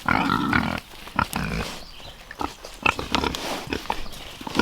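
Pigs grunting and snuffling close by in the rain, with short irregular oinks and snorts over a low farmyard background.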